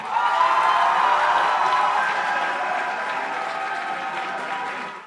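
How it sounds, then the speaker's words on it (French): An audience applauds at a young talent show evening, dense continuous clapping that starts full and slowly thins while staying loud throughout. "Je vous demande d'applaudir fortement, mais très chaleureusement, Jules et Joséphine"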